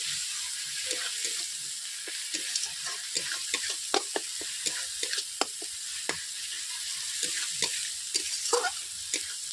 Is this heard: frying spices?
yes